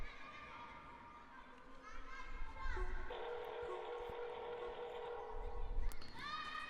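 Faint children's play voices drift through an ambient sound-collage outro of an album track, blended with sustained tones, a drawn-out whistle-like note and a low rumble, all soft and distant.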